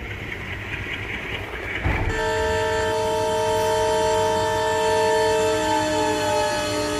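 In the train simulator game MSTS, a steady rumble of a train rolling past, then a long sustained horn tone holding over the rolling noise, loud and close.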